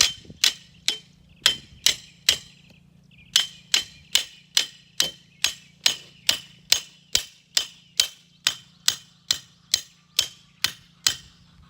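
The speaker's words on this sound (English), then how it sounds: "Now we're gonna take our hammer, thank you, and we're gonna hit it in." Repeated sharp metallic hammer blows driving a steel T-post into the ground for a pea trellis, evenly spaced about half a second apart, close and loud with no talking.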